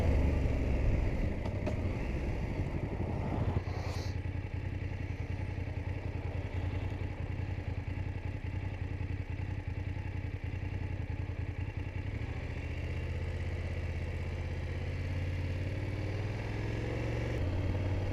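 A BMW 750 GS Sport motorcycle rides through Cheddar Gorge, its mid-pitched engine droning steadily and close for the whole stretch, with some clatter and a slight drop in tone toward the end.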